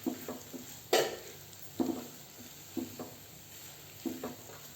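Butter garlic chicken pieces stirred in a pan, a spoon scraping and knocking at a few spaced moments over a soft, steady frying sizzle, close and moderately quiet.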